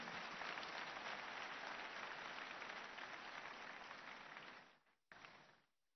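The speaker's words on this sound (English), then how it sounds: "let's clap for Jesus Christ." A church congregation at a Sunday service applauds in a dense, steady wash of clapping that fades out, with one brief burst of clapping after a short break.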